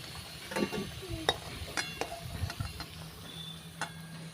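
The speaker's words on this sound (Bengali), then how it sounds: "এই আলুটাকে সুন্দর করে লাল লাল করে ভেজে নিই" Potatoes frying in oil in a pan, a steady soft sizzle punctuated by sharp clinks and scrapes of a utensil stirring, close and fairly quiet.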